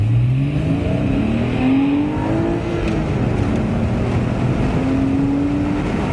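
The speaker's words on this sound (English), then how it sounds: "Oh, listen to that beautiful direct injection flat six." A 2011 Porsche Boxster Spyder's direct-injection flat-six engine is heard close and loud on the Willow Springs street circuit, pulling through steady rising gear sweeps with a brief dip as it shifts, continuous throughout.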